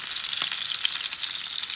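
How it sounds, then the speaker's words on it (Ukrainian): Meat sizzles and spits in hot oil, a steady crackling fry heard up close with no voices. "Поставили поставили олійку і смажимо."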